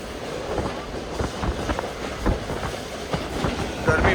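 A Green Line economy class train runs between Lahore and Karachi, with a continuous interior rumble and rhythmic clickety-clack of wheels over rail joints, moderately loud throughout.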